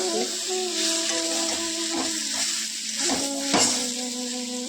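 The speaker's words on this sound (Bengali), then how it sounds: "এখানে আমি কাঁঠালের তরকারি করছি" Jackfruit curry sizzles in a pan with a steady frying hiss. A spoon scrapes and stirs it in short strokes about once a second, over a faint tonal hum.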